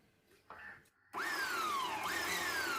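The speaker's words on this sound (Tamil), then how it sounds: "எந்த சைஸில் வேணுமோ அதுக்கேற்ற மாதிரி மிக்சியை ரன் பண்ணணும்" A kitchen mixer grinder chops quartered tomatoes, bursting into a loud, close whirring roar after a brief quiet start, its motor pitch sliding down and then climbing again under the load.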